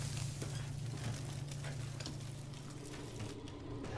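A faint, steady sizzling crackle with soft irregular pops plays on a low hum in the video game Resident Evil VII: Biohazard, with no talking over it.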